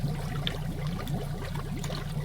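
A compost tea brewer aerates with a steady, continuous bubbling and gurgling of water, close and even throughout, with a low pump hum underneath.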